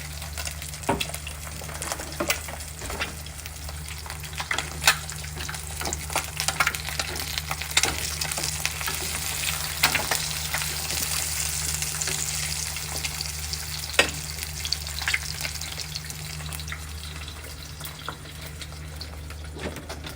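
Bread in a pan seasoned with salt and pepper fries and spits at breakfast, a continuous hiss with sharp pops and clicks throughout over a low steady hum, no talking.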